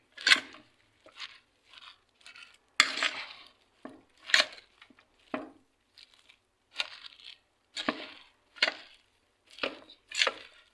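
Fresh vegetable salad being tossed with utensils in a bowl, giving irregular clinks and scrapes in short bursts, close and moderately loud with no talking.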